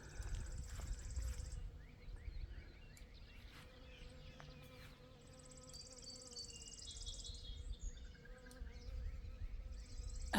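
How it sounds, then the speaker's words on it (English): Bees buzz softly among pink blossoms on a mountain property, a faint continuous hum at a distance with low background rumble and occasional light clicks. "I hear the bees up in there."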